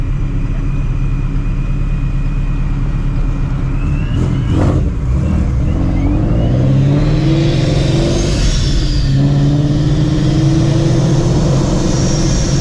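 A supercharged Shelby GT350 engine revs and roars close by, with a sharp whooshing hiss of a blow-off valve venting between throttle bursts.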